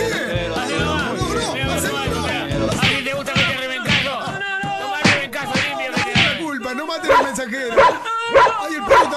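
A dog barks, yips and whimpers up close in a series of irregular, loud outbursts, mixed with people talking nearby at an outdoor gathering where fried dough is being made.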